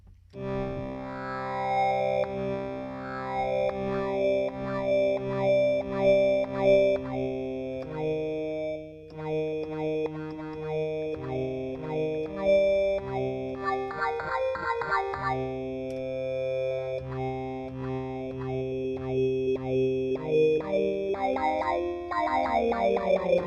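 A Hydrasynth synthesizer plays a sustained, shifting melody whose tone swells and sweeps with each note through envelope-modulated effects, giving a vocal, wah-like character; loud and continuous, no speech.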